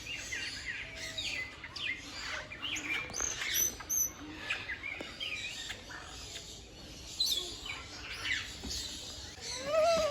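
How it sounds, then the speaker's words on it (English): Busy chorus of small birds chirping and tweeting at a bird feeding area in a garden, many overlapping calls near and far, continuous throughout. "Here is where you feed the birds."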